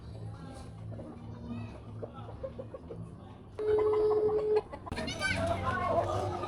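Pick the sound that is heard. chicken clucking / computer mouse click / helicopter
chicken clucking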